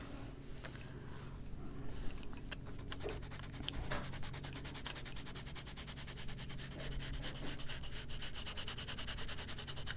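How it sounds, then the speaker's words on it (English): The side of a colored pencil shades across a plate, producing continuous soft rubbing and scratching strokes in a quick, even rhythm, close and clear, with no talk. "Again, I'm using the side of the pencil."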